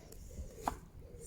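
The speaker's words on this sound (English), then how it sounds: "So I'm gonna keep chopping away to make the base of my dal." A knife chops onions, garlic and ginger for a dal base at an outdoor campfire cooking session, one short faint chop over quiet background hiss, with no talk.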